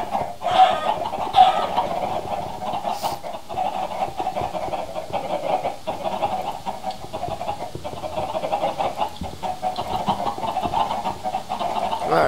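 Chickens cluck and squawk continuously in the Minecraft video game, a steady flock chatter with several louder bursts near the start, filling the scene with no speech.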